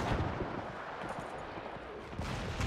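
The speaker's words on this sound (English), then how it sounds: "that's friendly artillery fire as well" Friendly artillery fire in the WW1 video game Between Empires, heard as a dense, continuous roar of distant booms and rumbling blasts, swelling louder toward the end.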